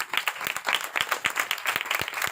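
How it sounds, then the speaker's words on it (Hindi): An audience applauds during a sermon, a dense patter of handclaps at moderate distance that carries on steadily throughout. "जी भाई के लिए ताली लगाए।"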